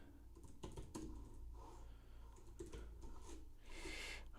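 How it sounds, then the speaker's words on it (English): Rapid, uneven clatter of typing on a computer keyboard, close and fairly steady over a low background hum, with bursts of quicker keystrokes and brief pauses. "That's why I'm concentrating just on typing here."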